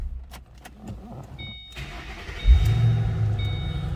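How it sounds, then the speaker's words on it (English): A 2008 Ford Mustang Shelby GT coupe with a V8 engine cranks with a short whirring starter and then catches into a loud, deep rumbling idle up close, with no talk. "let's go ahead and fire this up. Let's hear it"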